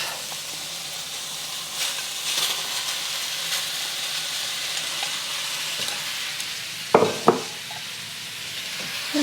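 Beef being stir-fried for Hong Kong-style beef fried rice gives a steady, close frying hiss and sizzle, with a few sharper crackles and spatters near the end; no one speaks.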